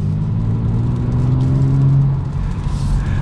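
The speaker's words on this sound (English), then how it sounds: "we'll give it one last acceleration for today's video." A 2022 Genesis G70 car accelerating, heard as a steady, loud engine rumble and whir from inside the car, rising in tone before easing slightly near the end, with no talking.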